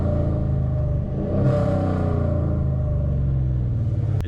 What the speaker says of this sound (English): Get some downshifts here.